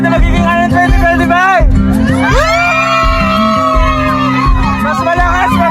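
Crowd at a school event shouting, whooping and cheering loudly and close, with overlapping voices rising in long drawn-out yells and bursts of excited chatter.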